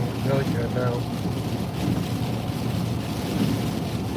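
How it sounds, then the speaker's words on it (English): Rain from a Massachusetts thunderstorm washes steadily over a vehicle in traffic, a dense broadband rush with some speech heard beneath it. "Here comes the rain."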